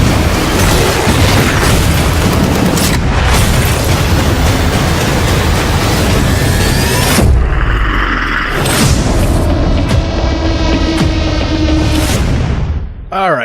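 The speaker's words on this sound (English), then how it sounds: "So there is a lot of explosions, a lot of implied predator killings going on" Explosions from a Predator (2018) action sequence, loud thundering booms and crashing rumble filling the first half, then a sudden drop into quieter ringing tones and a final blast.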